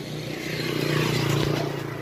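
A Honda Wave motorcycle with an original, unmodified engine idling steadily, a low even putter with a faint rhythmic ticking pulse throughout, close and moderately loud with no speech.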